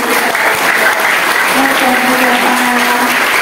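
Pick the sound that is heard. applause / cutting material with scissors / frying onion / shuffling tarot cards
applause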